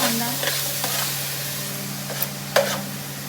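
Onion sizzles gently in a pan as it slowly cooks, with a few soft stirring scrapes and a couple of sharper clinks near the end, close by and steady.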